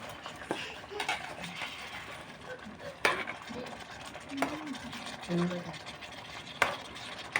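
Food being stirred in a home cooking pot, with scattered scraping and clinking taps at an irregular pace over a quiet background, plus brief faint voices in between.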